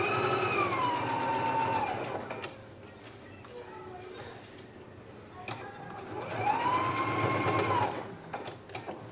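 A home sewing machine stitches fabric in rising and falling whirring bursts near the start and end, with quieter stretches between; a voice talks over it.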